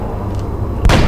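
Gunshot in the XCOM video game, a single sharp loud blast near the end after a low rumbling background.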